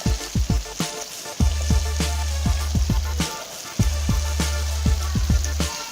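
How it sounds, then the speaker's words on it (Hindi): Potatoes frying with softened tomatoes in a pan for aloo bhujia, a steady sizzle with a series of sharp taps and knocks, probably a spoon against the pan, close and clear without talk. "आलू हमने फ्राई करने हैं"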